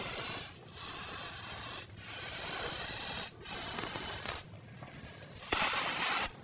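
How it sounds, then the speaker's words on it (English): Solvent sprays onto a brake hose fitting of a 2009-2017 Volvo XC60 in short hissing bursts of about a second each, with brief pauses between, close and loud. "go ahead and spray it down with some spray solvent."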